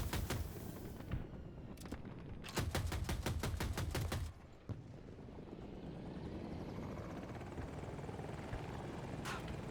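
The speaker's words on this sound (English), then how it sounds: "So the helicopter, you see the rotors are pretty slow now." A helicopter in a military video game whirs steadily with slow rotor chop, joined by bursts of rapid machine-gun fire in the first half, loud and close, with no talking.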